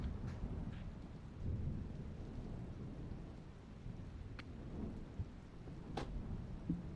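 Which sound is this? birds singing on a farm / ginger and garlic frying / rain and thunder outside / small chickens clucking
rain and thunder outside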